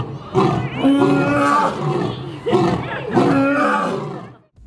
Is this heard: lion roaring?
yes